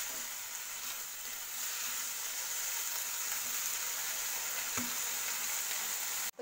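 Vegetables cooking in chili sauce give off a soft, steady sizzle with no voices, ending in one brief tap.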